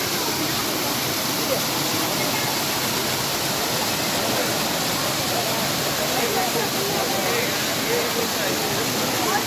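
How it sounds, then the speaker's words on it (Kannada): Rushing water of a waterfall at a Mussoorie tourist spot roars in a steady, even wash of noise. It is close and constant for the whole stretch, with a faint voice now and then. "ಈ ಜುಳು ಜುಳು ನೀರಿನ ಸದ್ದು ಕೇಳ್ತಾ ಇದ್ದರೆ ತುಂಬ ಒಂದು ಸೂದಿಂಗ್ ಇಫೆಕ್ಟು"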